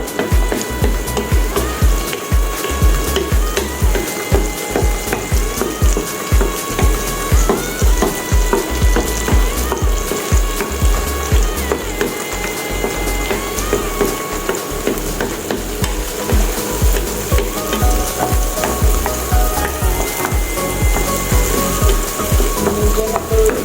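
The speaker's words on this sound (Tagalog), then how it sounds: "Alutin pa para maluto na maigi yung isda." Fish frying in a pan for a simple breakfast, with a steady, close sizzle and spatter, broken by frequent stirring and scraping.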